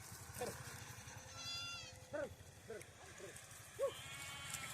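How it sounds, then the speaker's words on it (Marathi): Several sheep bleat in short, wavering calls, one after another, as they file into a pen, over a low steady hum and a speaking voice. "सगळ्या अशा मेंढ्या आता आतमध्ये चाललेले आहेत"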